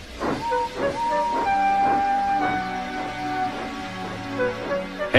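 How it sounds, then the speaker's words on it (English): Repeated bursts of hissing steam from an animated Thomas & Friends steam engine, Henry, puff in a regular chugging rhythm, with sustained whistle-like tones running throughout at a steady, fairly loud level. "Henry is a bad steamer, he said to Sir Topham Hatt."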